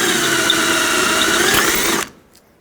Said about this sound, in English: Now get yourself a drill bit and drill this out.